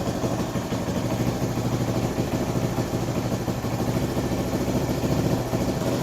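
A Kawasaki KL250 motorcycle engine idles steadily with no throttle applied, a continuous close mechanical rumble that holds even for the full stretch without revving.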